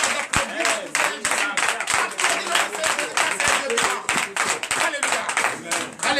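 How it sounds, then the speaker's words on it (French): A church congregation at a night service of deliverance and prophecy claps and cheers in praise, rhythmic applause filling the room steadily throughout with voices mixed in. "N'hésitez pas d'applaudir notre Seigneur Jésus"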